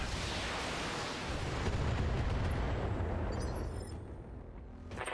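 Dense, loud barrage of mech weapons firing in the BattleTech game, booming blasts and rumbling explosions merging into a continuous roar that eases slightly near the end.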